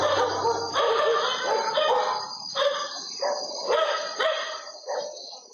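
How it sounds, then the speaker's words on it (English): A pack of dogs barking at night, repeated overlapping barks and yelps in an irregular rhythm, loud and somewhat reverberant. "a pack of dogs can be seen and heard barking at something in the distance that they clearly aren't too happy with"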